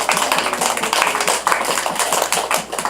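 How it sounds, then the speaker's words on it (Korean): Church congregation clapping in applause at a summer retreat service, a dense steady patter of many hands, fairly loud and continuous throughout. "박수"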